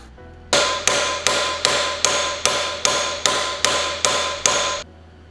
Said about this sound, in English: then we'll hammer it on there again